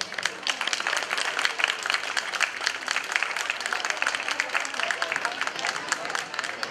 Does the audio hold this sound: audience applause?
yes